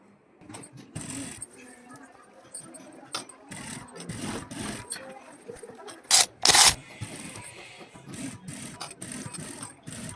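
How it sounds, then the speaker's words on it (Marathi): Sewing machine top-stitching the turned neckline of a blouse, short bursts of rapid stitching chatter near and fairly loud, broken by pauses, sharp clacks and fabric handling, with a person speaking in between. "पलटी केल्यानंतर त्याला आपण एक दाब टीप देणार आहोत"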